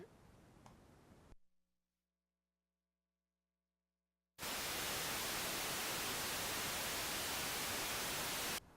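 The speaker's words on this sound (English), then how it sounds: "I'll press the fingerboard and you'll see the white noise come in." A brief quiet stretch with a faint hum, then a loud, steady burst of hissing white noise from a Haken Continuum synthesizer switches on abruptly and holds until cut off.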